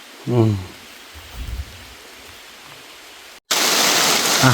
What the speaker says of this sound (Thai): โอ้ฝนตกเนาะฝนตก